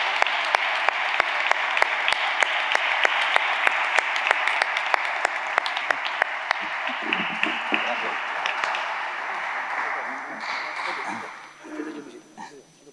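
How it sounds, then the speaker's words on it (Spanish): A large audience applauds a bullfighter at a bullfighting proclamation event in Úbeda, with sustained loud clapping that slowly fades toward the end and faint voices underneath. "Claro que sí, un aplauso."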